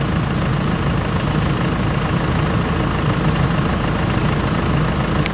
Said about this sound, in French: On va y aller tranquille avec ce tracteur.